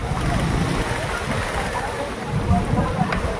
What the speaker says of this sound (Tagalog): Dragon boat nga, pa-practice sila.